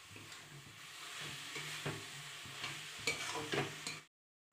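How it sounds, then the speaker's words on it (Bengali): Grated coconut and jaggery are stirred over heat in a pan for coconut naru, giving a soft, steady frying hiss with repeated light scraping strokes until it stops abruptly. "এইভাবে বারবার নাড়তে হবে, তাহলে কিন্তু নাড়ুর পাক ভালো আসবে।"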